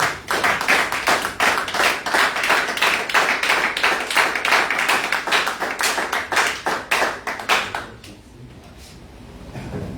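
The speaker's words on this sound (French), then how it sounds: "Est-ce que nous pouvons acclamer pour le Seigneur?" Church congregation applauding in unison, a rapid rhythmic clapping that carries strong and even for about eight seconds before fading into quiet room tone.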